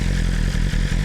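A motorcycle engine idling with a Healtech ES Eliminator valve controller fitted, a loud, close, low rumbling throb with slight rhythmic dips in the short burst.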